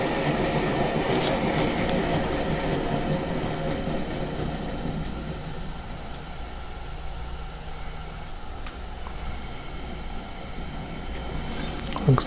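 A DCC-fitted Oxford Rail N7 model locomotive runs steadily along the track before speeding up and reversing, giving a continuous low mechanical whir and faint rolling hiss with an occasional light click, close by and with no talk.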